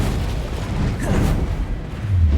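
Spell casts and blasts from combat in Hogwarts Legacy, a dense rumbling burst with booming impacts and a swelling low surge near the end, loud and continuous.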